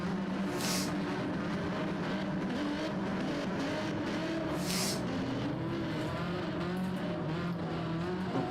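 A race car engine drones steadily through a short-track race in a racing video game played with a steering wheel. The engine is heard alone at moderate level with shifting pitch and a couple of brief tire-squeal bursts.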